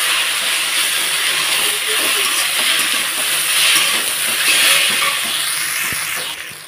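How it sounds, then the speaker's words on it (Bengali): Boiled cabbage and winter vegetables fry in a pan for vegetable Maggi, giving a loud, continuous hiss and crackle with small clinks and no talking. "এর জন্য একটু ভাজা ভাজা করে নিচ্ছি আর একটু ভালোভাবে"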